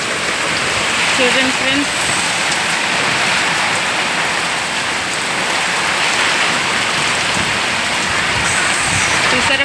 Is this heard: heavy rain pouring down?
yes